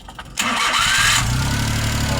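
A car engine, just washed, is cranked a few times and catches, then settles into a steady, close idle.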